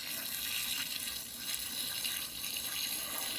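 Steady broadband rush of water spraying onto a wasp nest, a continuous hiss that holds level throughout with no pauses or voices.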